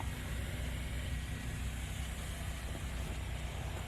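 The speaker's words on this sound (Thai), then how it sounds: "เป็นรถไถเดินตามนะครับ" A walk-behind two-wheel tractor engine runs steadily on a corn field, a constant low mechanical drone heard from nearby with no speech.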